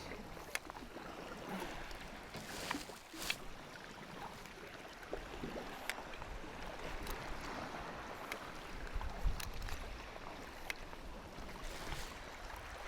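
A sea kayak paddled on open water near the Treshnish Isles, with gentle rhythmic paddle splashes and lapping water over a steady wash of wind and waves.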